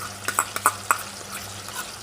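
Ground tadka paste, pounded in a mortar, stirred into hot oil in a pan for an eggplant dish, with a steady low sizzle under several sharp metallic clinks of a spoon against the pan, close by.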